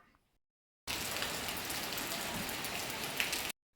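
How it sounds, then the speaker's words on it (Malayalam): Steady rain pours down for about three seconds, a dense even hiss of drops hitting surfaces, starting and stopping abruptly. "നല്ലൊരു മഴയും പെയ്തു കേട്ടോ"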